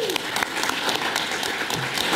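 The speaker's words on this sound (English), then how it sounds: "So let's give that a round of applause." Audience applause at a library reopening ribbon-cutting ceremony, dense steady clapping from a nearby crowd throughout, with a voice briefly heard underneath.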